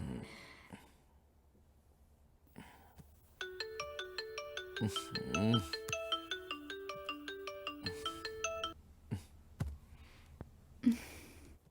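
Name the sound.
phone ringing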